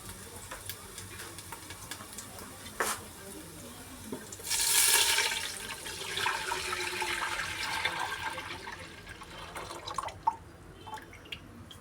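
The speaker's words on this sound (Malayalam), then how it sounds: "നമ്മൾ അളന്ന് വെച്ച തേങ്ങാപ്പാൽ ഒഴിക്കുക" Measured coconut milk is poured into a pan of frying ginger and cinnamon for Malaysian nasi lemak, a brief rushing splash that settles into a softer fading wash against a quiet kitchen background with scattered small clicks.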